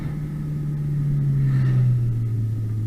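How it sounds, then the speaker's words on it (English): A turbocharged BMW 328i sleeper with full bolt-ons accelerates, its low engine drone rising in pitch with a faint turbo whine on top, heard from inside the car. "Ooh, that turbo sounds nice."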